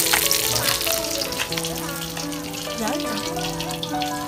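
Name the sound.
deep-frying climbing perch fish in a pan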